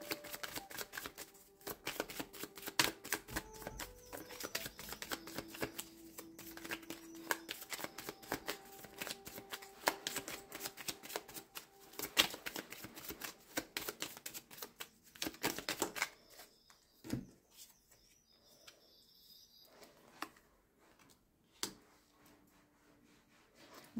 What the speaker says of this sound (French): Mais je vais tirer une carte en complément.